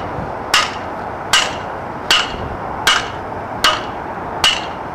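Scrap wood is pounded down into a fence post hole: six sharp, evenly spaced thuds, close and loud, each a single crisp strike with no talking.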